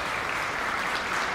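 Audience in a church applauding after a chamber concert of cello and organ, a dense, loud wash of clapping that holds steady for the whole short stretch.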